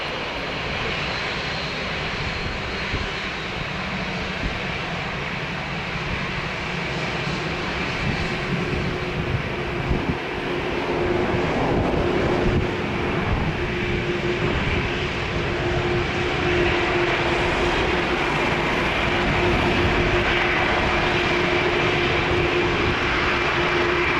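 An airliner taking off from runway 02 at Lisbon Airport, a loud sustained jet engine roar with a steady whine that swells gradually over the length, heard alone without voices.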